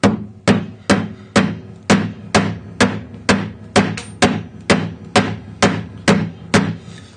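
A chisel struck by a hammer while cutting a sash window pocket in wood, fourteen sharp, evenly spaced blows, each ringing and decaying, close and loud with no talk.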